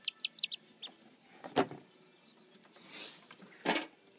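Young quail give a quick run of high chirps while being handled, followed by a few close rustling bursts and handling noises, faint overall.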